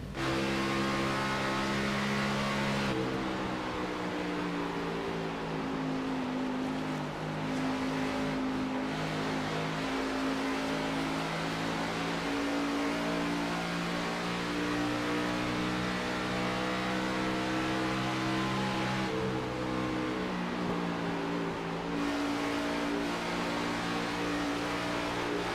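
Onboard race car number 96 laps a short track, its engine droning loudly and continuously, with the pitch rising and falling as the driver lifts and accelerates through the turns.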